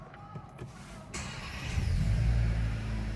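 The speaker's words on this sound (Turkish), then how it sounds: "Şöyle aracı bir çalıştıralım." A SEAT Ateca FR 1.5 TSI engine starts after a few interior clicks, settling into a steady, fairly close low idle rumble.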